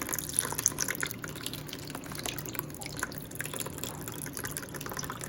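Liquid is poured into a bowl of beignet batter holding eggs and butter, a soft continuous trickle and dripping that stays fairly faint and steady throughout.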